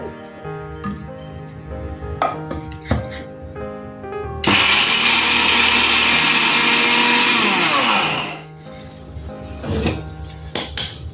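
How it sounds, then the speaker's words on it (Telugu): A newly bought kitchen mixer grinder whirs loudly for about four seconds while grinding a jaggery sweet mixture, starting abruptly and cutting off, with softer kitchen clatter and background music before and after. "ఇప్పుడు బాగా మెత్తగా గ్రైండ్ చేసుకున్నాము"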